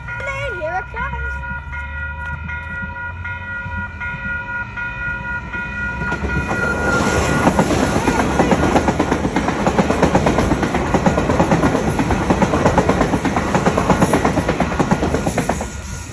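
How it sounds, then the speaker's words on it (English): Train rolling through a level crossing at Corban Estate in West Auckland, New Zealand: the crossing bells ring steadily, then a loud, close rumble and rhythmic wheel clatter build and hold as the carriages pass, with a voice heard over the start. "there's a train coming"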